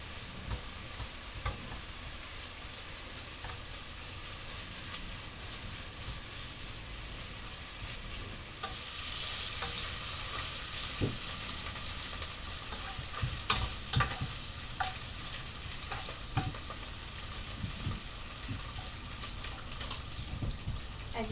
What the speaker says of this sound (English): As you can hear, the bacon is fried.